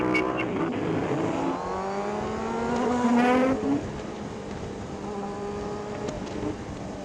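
Car engines rev and accelerate nearby, one rising to a loud whine before easing off, with steady road noise underneath.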